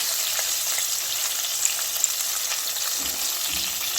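Chicken 65 steak frying in hot oil, a steady close crackling sizzle with a few sharp pops and soft low bumps near the end, no voices over it.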